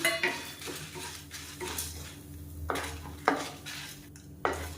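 Chana dal, dried red chillies and curry leaves stirred as they dry-roast in a pan for a protein chutney, with repeated scraping clatter of a spoon against metal and soft sizzle, close and moderately loud with no talk.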